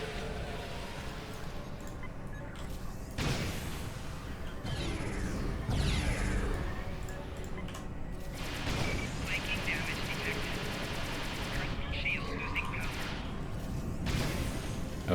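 Game combat sounds from a weapon fired at an enemy in Star Trek Online, with bursts of energy-like blasts and whooshes over a busy, continuous background mix.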